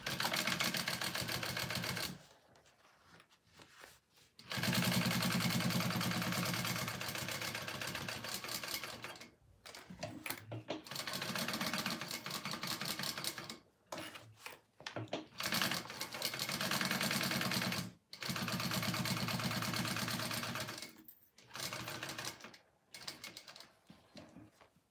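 A sewing machine top stitching a wallet, its rapid mechanical chatter running in several bursts separated by short pauses, close and fairly loud, with no talk.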